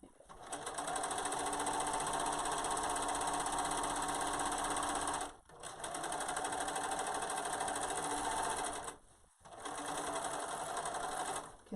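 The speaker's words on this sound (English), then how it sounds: "I just held it in place and just kept on stitching." A sewing machine stitches a gown's shoulder seam in three long, even bursts of rapid whirring separated by brief pauses, close and clear with no talking over it.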